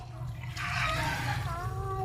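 Water pours steadily into a pot of cooking chicken menudo with carrots, a continuous splashing, gurgling rush over a low background hum, close and moderately loud.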